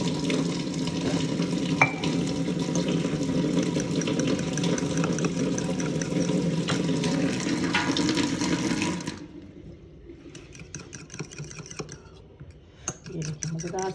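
Yogurt and water being stirred together in a bowl for a mint and cumin raita, a steady close wet swishing and clinking that runs for several seconds, then gives way to quieter scattered clicks and taps.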